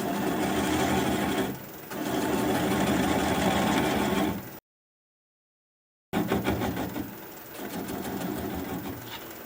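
A wood lathe spinning a bowl blank at about 400 RPM, a steady close mechanical whir with a rhythmic hum and tool scraping, cut off by a short silent gap before resuming at similar loudness.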